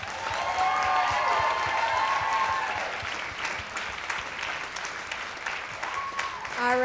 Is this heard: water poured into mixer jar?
no